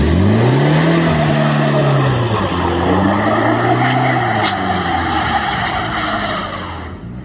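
A UAZ Patriot with automatic transmission pulls away and climbs a slippery hill, its engine loud and close, the pitch rising and falling as the wheels spin and grip, then easing near the end with no one speaking.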